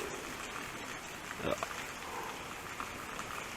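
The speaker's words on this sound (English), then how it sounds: "Nice waterfall location" A continuous rushing of falling water at Patalganga, Srisailam, fills the scene, broad and steady, with a faint voice briefly underneath.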